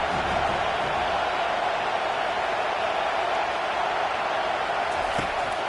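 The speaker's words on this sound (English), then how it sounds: "Here comes this home crowd as the defense tries to get off the field on 3rd down." A home crowd in the College Football 25 video game cheers as a steady, broad roar that holds level throughout, dense and continuous with no clear breaks.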